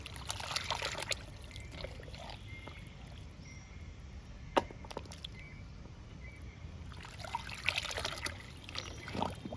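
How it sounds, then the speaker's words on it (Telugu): Kitchen waste liquid fertilizer, made from scraps such as mango and lemon peels and drumstick pieces, is poured onto fruit plants. It trickles and splashes in uneven bursts at close range under a low background. "పండ్ల మొక్కలకి మనం వారానికి ఒకసారైనా కంపల్సరిగా ఈ కిచెన్ వేస్ట్ లిక్విడ్ ఇవ్వాలి"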